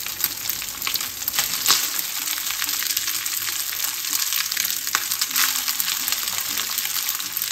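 Basmati rice frying in oil with garlic in a pan: a steady, loud sizzle and crackle with occasional scraping stirs, heard alone without any voices.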